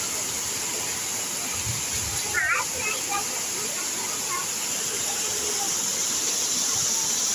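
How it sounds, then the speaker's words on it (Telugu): Heavy rain pours down with water streaming along a street beside a temple, a steady loud rushing hiss throughout, while voices are heard briefly over it. "పెద్ద వాన వస్తుంది తండ్రి."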